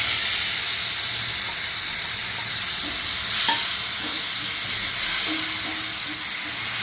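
Onions frying in a pan for a Karaikudi-style sundakkai paruppu pachadi, a steady close sizzle and hiss with occasional stirring scrapes and faint clicks, no voices.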